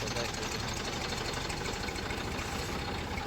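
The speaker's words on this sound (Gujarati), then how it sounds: "એક ટ્રેક્ટર સ્પેશલમાં હાલે છે ઓલરેડી" A tractor engine runs steadily close by at a farm with tractors lined up, a dense continuous rumble with knocking texture that holds evenly throughout, then cuts off abruptly at the end.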